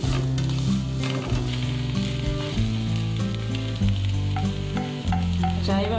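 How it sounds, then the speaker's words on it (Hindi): Carrots and other vegetables are sautéed in a pan, giving a constant close sizzle with intermittent stirring scrapes and light pan knocks over a humming, tonal background. "पकाना नहीं है, बस सौते करना है।"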